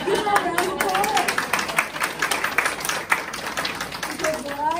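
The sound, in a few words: audience applause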